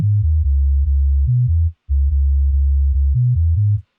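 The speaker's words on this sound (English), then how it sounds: "create a sine wave, and use that for the low end instead of the DI" Synthesized sine wave bass patch used as the low end for bass guitar, playing a smooth, pure, deep line of held notes that step up and down in pitch, with one brief gap and nothing else playing.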